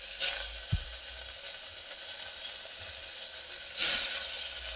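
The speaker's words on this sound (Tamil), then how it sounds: "இப்போ எல்லா காய்கறியுமே அள்ளி போட்டுக்குவோம்." Vegetables go into a pot of simmering Tirunelveli sodhi kuzhambu, a coconut-milk stew, giving a steady soft sizzle and hiss with brief louder bursts near the start and end.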